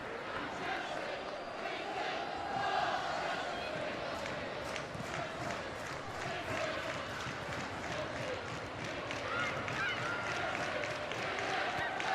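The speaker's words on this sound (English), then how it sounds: "Encouraging crowd here at Selhurst Park" Enthusiastic crowd at Selhurst Park for a Crystal Palace v Chelsea women's league match, a steady broad roar of voices and cheering filling the stadium throughout, with no single voice standing out.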